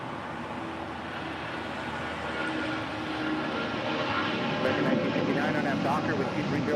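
A Delta Boeing 757-300 jet accelerates down runway 25 right for takeoff, its engine roar swelling steadily and growing louder, heard from a distance.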